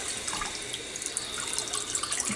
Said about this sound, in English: I'm going to fill it up with a little more water.